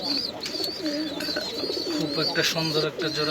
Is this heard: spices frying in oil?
no